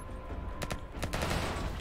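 Gunfire in the cyberpunk action roguelite video game Loopmancer: a few sharp shots around the middle, with a quick follow-up burst, over steady game background sound.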